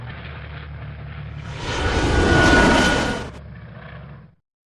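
Harold the Helicopter passes overhead: a low engine drone swells into a loud, broad whooshing roar at its closest point, then drops back to a quieter rumble before cutting off.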